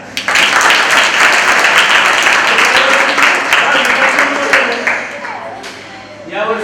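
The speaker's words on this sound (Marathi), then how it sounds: "तुमच्यासाठी एकदा टाळ्या." Audience at a children's home event breaks into applause, a dense, steady crowd of clapping that holds loud for several seconds before tapering off, with voices briefly audible at the end.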